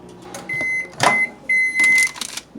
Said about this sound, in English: the ingredients say you could warm it up in the microwave